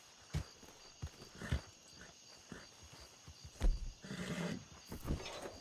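A horse in a roleplay video game neighs and whinnies amid scattered hoof clops and footsteps, irregular bursts over a faint steady background tone.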